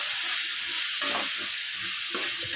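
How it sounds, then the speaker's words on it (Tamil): Chopped onions and tomatoes sauté in a hot pan for a goat liver fry, giving a steady loud sizzle with brief stirring scrapes, no talking. "வெங்காயம் தக்காளி நல்லா வதங்கட்டும்"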